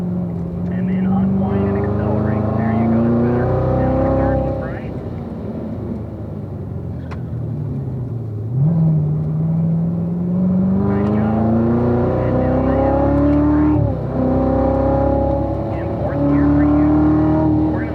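A car on the Spring Mountain track shifting gears and accelerating, its engine pitch climbing in several rising sweeps with drops at each shift, heard from inside the cabin under an instructor's coaching voice.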